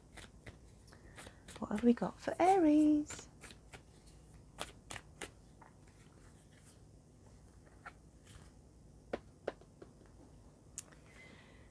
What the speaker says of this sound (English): So let's shuffle the animal spirit cards.